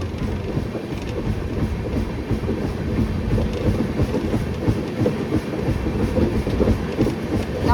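A long passenger train on the Mantralayam to Bagalkote route rumbles steadily along the rails, with a continuous low roar and faint rhythmic clickety-clack heard from on board.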